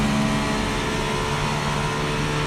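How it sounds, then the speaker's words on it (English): Race car engine from the iRacing sim during a touring car event, a loud, steady droning roar with layered harmonic whine holding constant throughout, no voices over it. "Let me turn the engine noise down."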